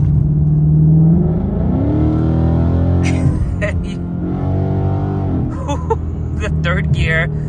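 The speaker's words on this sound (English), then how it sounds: "Now I'm gonna punch it." A 10-speed Ford Mustang accelerates hard on a track from sixth gear at low speed, its engine rumble swelling and shifting as the transmission downshifts, close up with someone talking over it.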